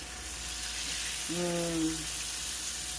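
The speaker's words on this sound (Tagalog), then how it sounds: "dahil nagtubig na siya, lalagyan na natin ng tubig" Water is poured into a hot pot of browning chicken tinola, a brief rising gurgle and hiss lasting under a second over a steady sizzling background.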